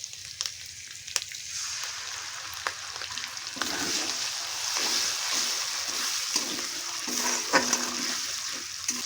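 Ground pointed gourd pulp with ginger paste fries in a pan for a stuffing, a close bright sizzle that swells as the mixture goes in, followed by several scraping stirs and no talking.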